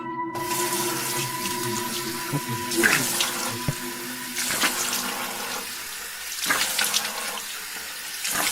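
Tap water runs steadily into a basin as someone splashes it onto their face, with several louder bursts of splashing breaking through the continuous flow.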